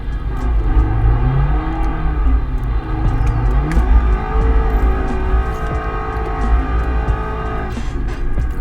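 In the driving game BeamNG, a rally-style turbocharged four- or six-cylinder car engine revs and climbs through gears, loud and close with a rising whine, continuous and without speech.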